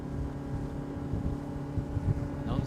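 Selva D 650 inflatable boat with its outboard motor running at about 4,000 rpm, a steady motor drone mixed with rushing wind and water noise, continuous and fairly close, with no clear speech.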